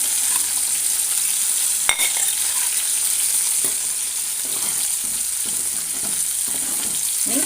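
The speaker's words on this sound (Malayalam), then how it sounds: "ഇനി നമുക്കതിലേക്ക് മീനിട്ട് കൊടുക്കാം നുറുക്കി വെച്ച മീനിട്ട് കൊടുക്കാം" Cut fish pieces go into a pot of fish curry boiling after the tomatoes have cooked down, giving a steady loud sizzle and bubbling with one sharp knock near the start and soft stirring scrapes, no voices.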